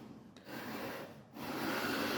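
A guitar fretboard is sanded with a 12-inch radius sanding beam and 100-grit paper, giving close, steady rasping strokes pushed back and forth with brief pauses where the stroke reverses.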